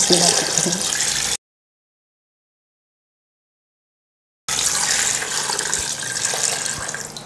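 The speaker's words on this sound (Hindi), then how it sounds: "इसमें अब हमने यखनी डाल देनी है जो हमने छान के अलग की हुई थी।" Strained yakhni stock pours into a pot for degi pulao, giving a steady, close liquid rush in two stretches separated by a few seconds of silence.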